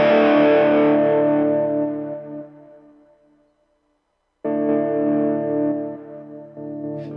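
An electric guitar chord, distorted through the volume pedal of a Valeton GP-200 multi-effects unit, fades gradually to silence, then jumps back abruptly at full level instead of swelling smoothly, then drops and returns once more.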